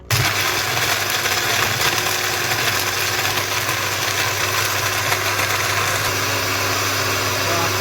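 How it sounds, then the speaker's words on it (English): A blender blending an ice drink whirs steadily and loudly throughout, a constant motor drone with gritty churning, no pauses. "and then we put it in your blender"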